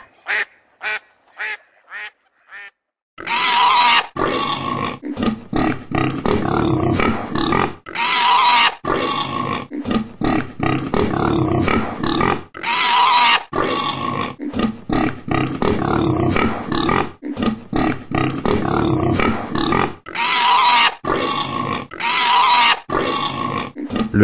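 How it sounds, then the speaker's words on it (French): A few short animal calls, then a long run of loud, dense pig grunting and snorting bursts with brief gaps, close and steady throughout. "Le cochon."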